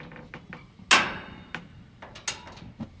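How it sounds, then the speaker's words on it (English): Ignition clicks on a Cadac Entertainer gas BBQ burner: two sharp, close snaps about a second and a half apart, with lighter ticks and taps around them in a quiet outdoor setting. "So we push it in and strike the ignition."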